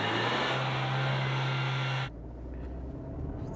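A 2023 Renault Arkana accelerates in reverse, a steady mid-pitched engine drone and whine for about two seconds before dropping to a quieter low rumble, close and without speech.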